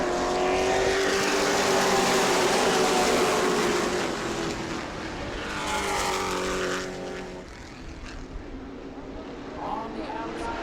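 Pro trucks roar back to speed on a restart at New Smyrna, a loud, dense wall of racing engines with rising and falling pitch as the pack passes, under a race commentator's voice.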